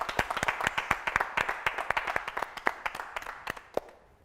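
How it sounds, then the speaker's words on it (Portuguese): An audience claps to welcome guest Francisco Destino onto a bar-talk show set, a fairly small crowd producing distinct, irregular hand claps that thin out toward the end, with no talking over them. "Recebam com muitos aplausos Francisco Destino."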